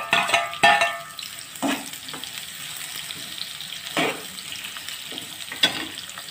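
Finely chopped onions frying in a pan until golden brown, a soft steady sizzle under intermittent scraping stirs and utensil clinks, close but fairly quiet, with no talking.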